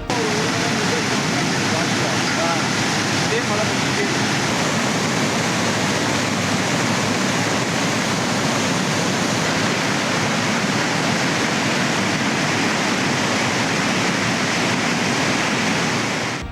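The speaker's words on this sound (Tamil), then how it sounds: "குற்றால மெயினருவி பகுதியில் ஏற்பட்ட காட்டாற்று வெள்ளம்" A flooded main waterfall at Courtallam roars with heavy, continuous broadband rushing water, loud and steady throughout with no break.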